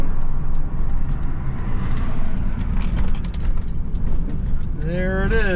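A car rolling up and stopping at the roadside where another car has broken down, a steady loud engine and road rumble throughout, with a brief whining squeal near the end.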